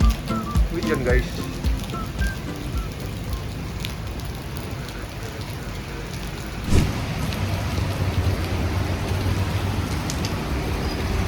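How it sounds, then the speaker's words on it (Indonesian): Steady rain pours at a highway rest area, a dense constant hiss with occasional louder spatters, while people talk nearby. "Hujan guys."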